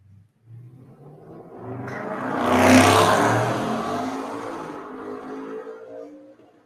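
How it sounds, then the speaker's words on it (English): A twin-turbo V8 Ford Mustang revs up alone, swelling to a loud peak and then easing off, with a low idle rumble at the start and end. "This is the same twin turbo V8 Mustang that we heard before."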